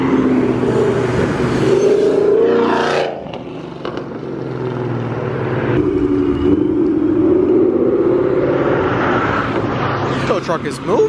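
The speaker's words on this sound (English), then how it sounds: "Tow truck is moving." A heavy vehicle engine rumbles close by, dipping briefly then building again as it drives off steadily.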